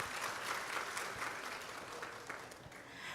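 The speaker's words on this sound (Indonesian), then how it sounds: "Tepuk tangan untuk teman-teman semua." An audience applauds at a seminar in Palu, a steady, fairly distant wash of many hands clapping that holds evenly throughout.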